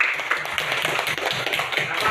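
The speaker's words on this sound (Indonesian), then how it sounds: "Mari kita berikan tepuk tangan buat teman Dion." A classroom of students claps for a classmate, a dense scatter of hand claps under talk and voices throughout.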